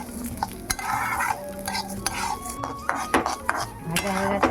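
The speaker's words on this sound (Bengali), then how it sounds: "মুগের ডালটা একটু তেলের মধ্যে ভেজে নেব।" Mung dal frying in oil in a pan while a metal spoon stirs and scrapes it, with a constant sizzle under repeated clattering utensil knocks and scrapes against the pot, close by and without speech.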